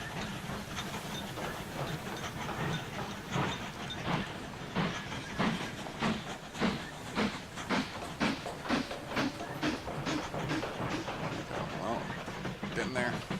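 A coal train pulls into a station in the train-building game Mashinky, its rhythmic clacking and hissing steady throughout, with a voice talking over it.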